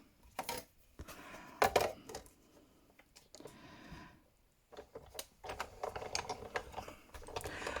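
A craft cutting machine slices paper, giving bursts of small clicks and tapping, mechanical clatter with brief pauses between passes, close and alone.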